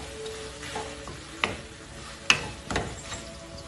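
Tomato masala for mutter masala frying in a pan while being stirred with salt, a soft steady sizzle with a few sharp scrapes of the spoon against the pan.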